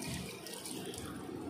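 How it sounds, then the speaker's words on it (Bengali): Tap water running while a face is washed, a steady close splashing rush that cuts off abruptly at the end. "আমরা মুখটা ধুয়ে নিই"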